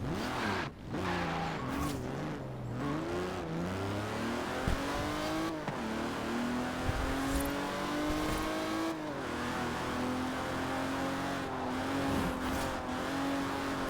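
A car driven in the racing game Forza Horizon 4, its engine revving and climbing through gears with rising and falling pitch, tire squeal and skidding, loud and continuous with no voices.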